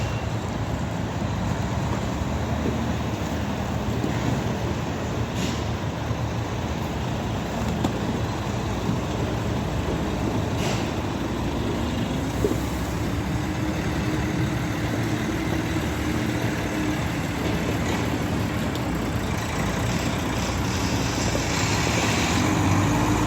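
A truck's steady, low engine rumble idles continuously for the whole stretch at a Thorpe Park roller coaster construction site, close and unchanging, with faint traffic-like noise in the background and no talking.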